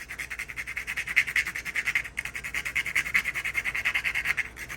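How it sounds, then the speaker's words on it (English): Whole nutmeg rasps steadily up and down a grater in a kitchen, a close, rhythmic scraping with even strokes and one brief pause, heard alone. "you can see with this grater, you go up and down."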